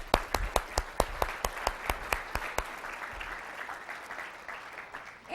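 An audience bursts into applause, starting with a run of sharp, evenly spaced claps over a dense crowd patter that thins and fades toward the end.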